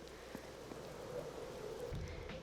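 Steady rain in the video game Lost Odyssey, a continuous soft hiss of falling water with a faint low rumble toward the end.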